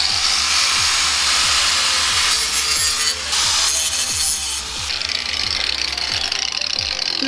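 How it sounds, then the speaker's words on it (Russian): A hand file scrapes down angle-grinder burrs on a metal plate for an extra fuse block on a UAZ 3151, with steady, evenly spaced rasping strokes, loud and close throughout with no talk. "остались вот эти вот от болгарки заусенцы, их надо сточить"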